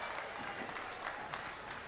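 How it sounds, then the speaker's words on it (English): An audience at the Balmoral Show sheep shearing applauds a shearer, with steady, moderately distant clapping from a crowd that continues throughout the clip. "Come on, put your hands together there for Seamus."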